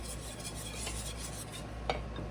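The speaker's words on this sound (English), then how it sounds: "a little bit of that cheese in there and keep whisking until that dissolves" Cheese whisked into a sauce until it melts, a soft continuous swishing and scraping of a whisk in a pan with one small clink near the end, quiet and close with no voices.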